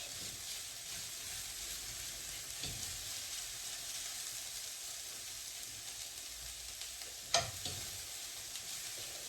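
Onion softens in a pan for a Bolognese sauce, giving a gentle, steady sizzle at low volume, with a couple of faint stirring scrapes and one sharp clink near the end.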